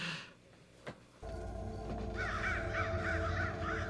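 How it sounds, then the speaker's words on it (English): Several crows or ravens caw in a rhythmic series, fairly close and clear, over a steady low background hum, with no talking. "Are those ravens or crows?"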